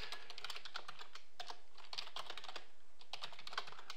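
Quick bursts of keystrokes on a computer keyboard, clattering in short irregular runs with brief pauses between them, close and moderately quiet, no talking.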